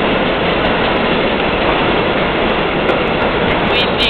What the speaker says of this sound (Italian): Ah no, è un treno merci